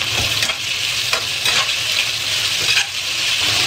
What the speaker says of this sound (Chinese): 翻炒。